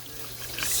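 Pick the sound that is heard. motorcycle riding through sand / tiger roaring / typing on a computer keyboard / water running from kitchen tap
water running from kitchen tap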